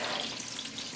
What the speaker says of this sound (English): hold it down in the pot until it's seared